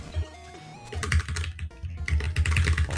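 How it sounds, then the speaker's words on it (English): Rapid computer keyboard mashing during a blind race of The Messenger, with dense clusters of clacking keystrokes running almost the whole time over a low background hum. "It sounds like you're playing a keyboard."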